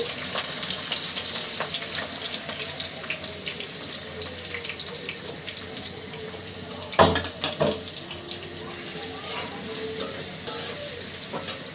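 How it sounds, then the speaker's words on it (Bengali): Chopped onions and whole cumin seeds frying in a pan for a chicken curry: a steady, close sizzle with occasional sharp scrapes and clinks from stirring, no voices. "সুন্দর করে পেঁয়াজগুলো ভাজি করে নিব।"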